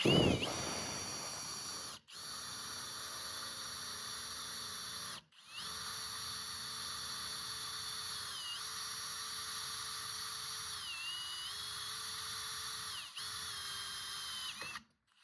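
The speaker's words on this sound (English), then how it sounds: "That was pretty easy to put a hole in this steel. This cobalt bit went right through it." A cordless drill with a cobalt bit bores through thick steel, a steady high-pitched motor whine in long runs broken by brief stops, the pitch dipping slightly as the bit bites, close and clear with no talking.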